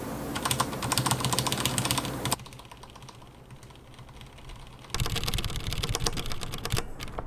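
Rapid typing on a mechanical keyboard with dampened keycaps, a soft, muted clatter, in two bursts separated by a quiet pause.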